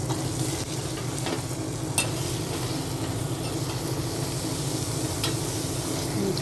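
Greens being stirred in a hot pan with coriander-cumin powder, a continuous sizzle and fry with occasional spoon scrapes against the pan, close and steady throughout.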